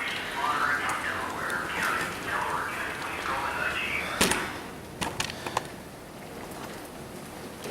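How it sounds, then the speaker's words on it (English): Heavy rain pours during a thunderstorm as a steady, dense hiss. A few sharper knocks and clatters break through near the middle and later. "Lots of rain right now."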